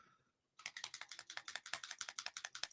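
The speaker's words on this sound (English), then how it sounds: "Get off the keyboard." A kitten walks across a computer keyboard after a brief quiet moment, its paws producing a quick, irregular run of close, crisp key clacks that keep going steadily to the end.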